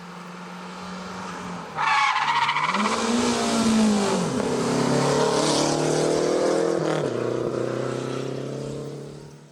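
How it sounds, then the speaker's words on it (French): Renault Super 5 GT Turbo, a historic Group N car, racing up a mountain hill climb: a loud, close engine roar that surges as it accelerates past, with gear changes and sustained revving throughout. "signalons la 6e victoire pour Jean-Claude Gaillard au volant de sa Super 5 GT Turbo."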